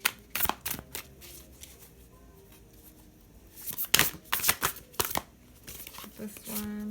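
Tarot cards shuffled by hand in bursts of papery riffling and flicking, loud and close, with quieter gaps between and a short hum near the end.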